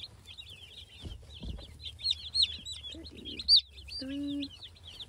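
Baby chicks in a homestead setting: a chorus of high, rapid peeping and cheeping carries on throughout, with a few soft knocks and handling thumps and a brief low buzz near the end.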